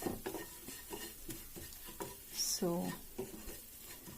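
Egg masala frying in oil in a pan, a low sizzle under light scraping and clinks of a utensil, with a brief spoken word partway through.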